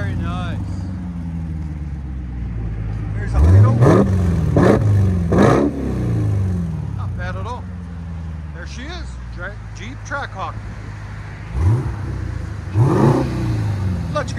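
A 2021 Jeep Trackhawk with a supercharger and a Borla Pro-XS exhaust revs in several sharp blips, two clusters early and two more later, each rising and falling over a steady idle, close and loud.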